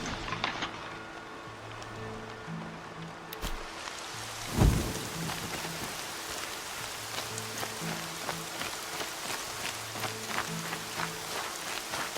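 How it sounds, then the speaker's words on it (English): Steady rain falls across a game landscape, a dense broadband hiss with scattered droplet ticks and a brief low thump partway through, under faint low musical tones. "Rain's not so bad."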